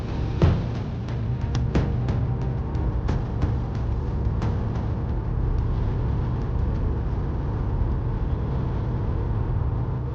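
An MG4 64kWh electric car cruising on a foggy highway, a steady low road and tyre rumble with a few faint clicks early on and no talking.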